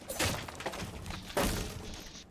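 Two sharp bursts of breaking glass a second apart in Rainbow Six Siege, each a bright crash trailing off into tinkling shards, close and loud.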